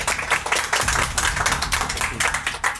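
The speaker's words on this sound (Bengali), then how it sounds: "সৌরভের জন্য একটা করতালি হবে" A small group claps for a lottery winner, a dense patter of hand claps that holds steady and close for a few seconds.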